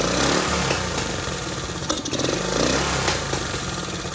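A 1969 Honda CT90 motorcycle engine runs steadily at close range, a rough, buzzing putter with small pops and a slight rise in revs partway through. No one speaks.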